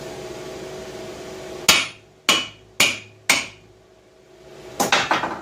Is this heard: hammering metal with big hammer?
yes